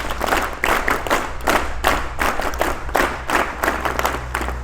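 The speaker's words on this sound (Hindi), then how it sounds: "इनके लिए जोरदार तालियां बजाई जाएं" A school audience gives loud, sustained applause for an honoured teacher, the clapping surging in rhythmic waves with a low hum beneath it.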